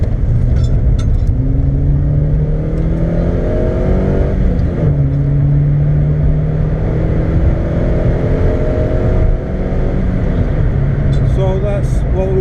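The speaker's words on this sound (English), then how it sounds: "Wheel spin change into second." A Ford SportKa engine revs hard and climbs through the gears with wheel spin, loud and close, with a brief dip as it shifts into second.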